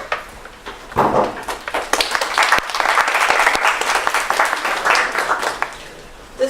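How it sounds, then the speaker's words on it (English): Applause from a small audience at a student government meeting builds quickly from a few claps into a full round of clapping, holds for several seconds, then tapers off. "This is the only time that we get a nice round of applause."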